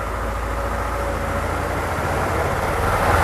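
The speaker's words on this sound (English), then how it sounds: "I'm bringing the RPMs up." A Ford engine with a misfire revs up to higher RPM, a steady loud broadband roar that holds near and constant, with no talking over it.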